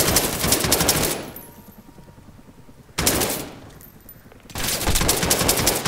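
Gunfire in the Call of Duty Modern Warfare campaign: loud bursts of rapid automatic fire that stop, start again for a while, then pause before a final sustained volley.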